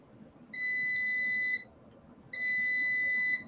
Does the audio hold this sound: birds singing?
no